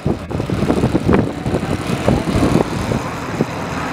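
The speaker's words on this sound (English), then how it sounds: "Corvette engine." Corvette engine running at a Cars and Coffee car meet, a fairly close rumbling motor with uneven surges and throttle swells over background lot noise.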